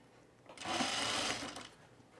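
A sewing machine stitching a shirt placket gives one short burst of rapid, close whirring of about a second, set against a quiet room.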